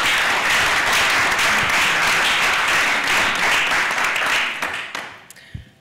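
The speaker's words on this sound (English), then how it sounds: "Can we please give her a round of applause?" Loud, close audience applause after a speaker at a panel debate on women in African media, a thick steady roar of clapping that fades out near the end into a few scattered claps.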